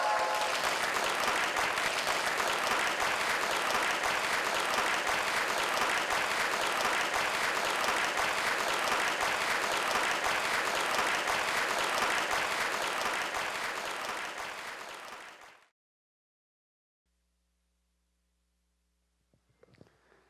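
An audience applauds steadily as mountaineer Um Hong-gil is welcomed onto the stage at a KOICA event, with dense sustained clapping that fades out near the end, followed by silence and a few faint sounds.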